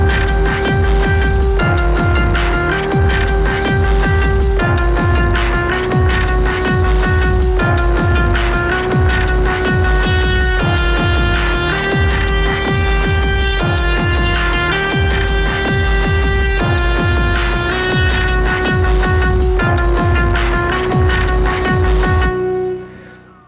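A slow, grinding beat track with a deep Ensoniq synth bass line over a steady, punchy drum pattern, loud and continuous with no talking, ending abruptly.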